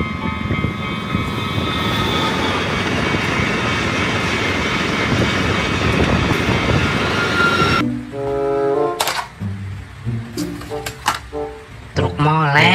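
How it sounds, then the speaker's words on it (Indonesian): A fast train rushes past, a loud continuous roar of wheels and engine for about eight seconds, then it cuts abruptly to quieter, choppy sounds with speech-like bursts. "lihat kawan, kereta api cepat."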